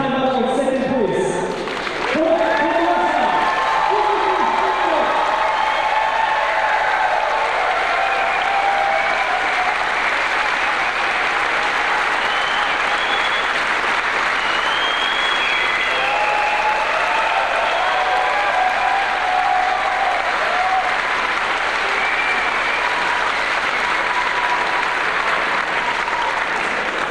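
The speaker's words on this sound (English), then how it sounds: "Give him a big applause now, because he's going to still climb out on 2nd place." A bouldering competition audience applauding a climber who finishes second, a long, loud, sustained wash of clapping and crowd noise, with a voice speaking over it at the start.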